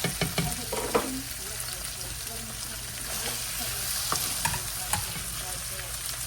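Noodles, vegetables and brisket are stir-fried in a pan over high heat. A steady sizzle runs throughout, broken by repeated scraping and clanking as the food is stirred.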